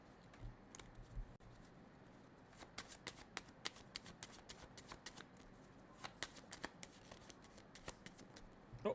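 Tarot cards being shuffled by hand, a quick irregular series of crisp flicks and slaps repeating throughout, close and fairly quiet with no talk.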